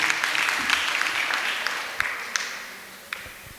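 An audience at a Jain monk's sermon gives sustained applause, a dense, even wash of many hands clapping at moderate loudness and slowly fading, with no voices over it.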